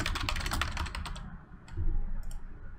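Fast, continuous typing on a computer keyboard, a dense burst of close key clicks for about a second, then a few scattered taps with no voices.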